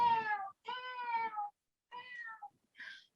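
A house cat meows several times in a row, close and clear, with short pauses between the calls and a quiet background.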